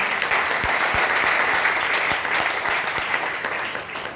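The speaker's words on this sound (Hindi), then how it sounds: "जोरदार तालियां एक बार इनके लिए" Hearty crowd applause fills a motivational youth talk, a thick wash of clapping with a few heavier individual claps, staying strong before tapering near the end.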